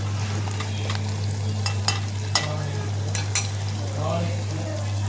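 Chopped onion and ginger fry in hot oil as a tempering, with a continuous sizzle, occasional stirring clatter and a few sharp ticks over a low steady hum.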